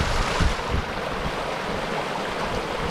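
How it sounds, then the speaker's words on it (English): Loud rushing of a mountain creek at Ramey Creek, a constant broadband roar of flowing water with no pauses, close to the listener. "The creek's loud."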